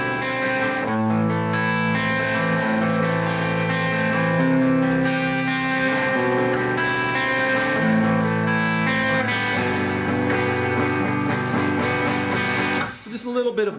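An electric guitar plays through an amp with a Glab Dual Vintage Overdrive pedal in bypass, giving a mostly clean tone with slight gain, sustained chords ringing continuously before a brief pause and scrape at the end.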